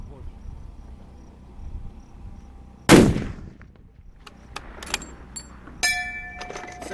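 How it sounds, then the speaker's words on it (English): A single rifle shot cracks sharply during a long-range shooting qualification run, followed by a decaying echo, with faint insect chirps, light rustles and small clicks in the outdoor background. "This is the fourth shot?"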